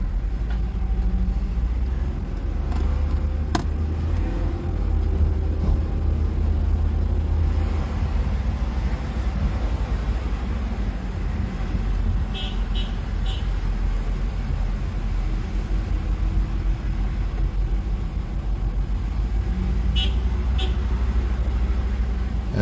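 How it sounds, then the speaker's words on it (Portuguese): Vintage cars arriving and driving along a road in Vizela, a steady close rumble of engines and road noise that holds throughout with a few faint higher clinks. "Vêm os carros para nos levar."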